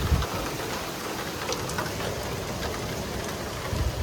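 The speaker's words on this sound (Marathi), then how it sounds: "जबरदस्त पाऊस येतो." Heavy rain with large drops pours down steadily, a dense even hiss of drops striking surfaces close by, with no talk over it.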